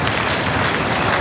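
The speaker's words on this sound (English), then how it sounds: "Big round of applause for her." Audience at the Replay FX 2015 costume contest claps and cheers after a contestant is introduced, a dense, steady wash of applause filling the room with no talk over it.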